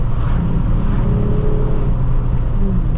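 Steady, loud engine drone from a Nissan 350Z downshifting on a downhill canyon road, with continuous road and wind noise and no talking.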